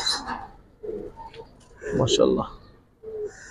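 Pigeons at a market, a low throaty cooing in short bursts close by, with someone speaking briefly over the birds.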